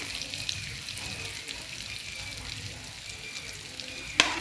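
Sausages frying in hot oil in a pan give a steady, moderately loud sizzle throughout, with a brief sharper clatter near the end.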